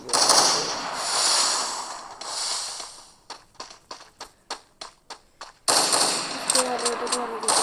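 Steady rushing background noise, then about ten sharp, evenly spaced gunshots crack in quick succession in the video game Free Fire before the noisy background returns.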